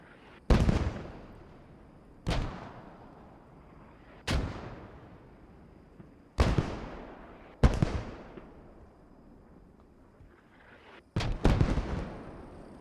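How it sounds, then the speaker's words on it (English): Mortar rounds landing as a smoke barrage in the World War II shooter Post Scriptum, six heavy booming impacts spaced a second or two apart, each with a long rumbling decay, the last two close together, no talking. "See a big smoke barrage coming in here from the Allied mortars"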